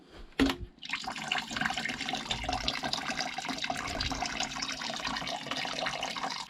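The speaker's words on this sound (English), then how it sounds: "so now we're just going to drain that water out" After a brief knock, coolant water drains from a Kawasaki Z800 motorcycle, pouring out in a steady, loud rushing stream that continues without a break to the end.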